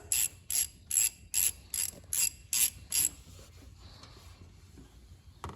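A ratchet tightening the plastic oil filter housing on a 2024 Jeep Wrangler Rubicon, eight quick rhythmic clicking bursts close by, then quiet handling noise.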